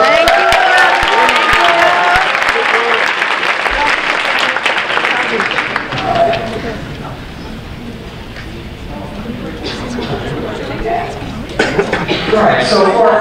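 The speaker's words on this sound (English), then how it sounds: "So a round of applause for Mr. Finkel." Audience applause at a senior awards night ceremony, loud and dense with scattered cheers at first, then thinning into softer, patchier clapping with a few sharp claps near the end.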